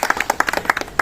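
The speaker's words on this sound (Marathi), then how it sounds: "टाळ्या देखील जोरात वाजायला हव्यात." At a local civic felicitation ceremony, an audience claps in a quick, uneven patter, sharp individual hand claps sounding close and distinct over a little more than a second.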